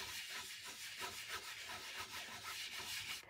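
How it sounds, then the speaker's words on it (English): Black soot archival ink being rubbed over an embossed paper panel, a soft continuous scratchy rubbing in quick back-and-forth strokes, close and quiet. "I'm just going to take some black soot archival ink, and I rub it over the image."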